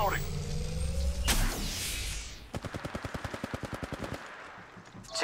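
Gunfire in Apex Legends Mobile rings out as a steady rhythmic string of about fifteen to twenty sharp, evenly spaced shots over nearly two seconds, following a louder single report and vehicle-like rumble earlier.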